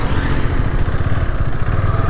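A Husqvarna Vitpilen 250 motorcycle makes a slow U-turn, its engine giving a steady, close, low rumble that holds an even level without a sharp rev.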